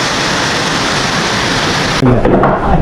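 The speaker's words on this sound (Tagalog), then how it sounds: "Inabutan tayo ulan." Steady broadband rain hiss falls around a construction site where metal studs are being installed, loud and continuous, shifting in texture partway through as the downpour drums on nearby surfaces.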